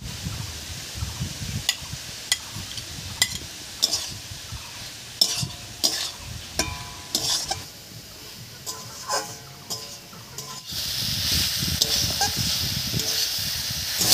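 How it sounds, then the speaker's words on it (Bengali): Saag cooked with fried eggplant in a pan, a spoon scraping and stirring in sharp repeated strokes over a soft steady sizzle that grows brighter near the end, no talking. "বেগুন মিশিয়ে আরও 3-4 মিনিট মতো রান্না করে নিয়েছি"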